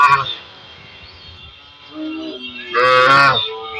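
Cattle at the Kalai cattle market in southern Bangladesh, tied up by traders, letting out loud, close moos, one brief call at the start and a longer bellow near the end, with quiet background noise between.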